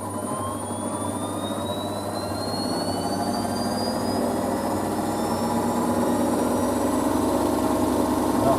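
A Zanussi Z716WT83BI integrated washer dryer on a cottons 40ºC cycle ramps its spin up to full power, a loud steady drum roar with a whine rising gradually in pitch, no voices over it.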